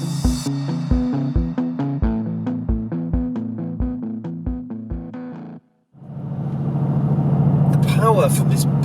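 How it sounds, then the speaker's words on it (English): A Mercedes-AMG GT S with a bi-turbo V8 surges into a loud, deep, sustained roar. Before it, a stretch of rhythmic plucked musical notes stops with a short silence. "Power from this bi-turbo V8 is instantaneous"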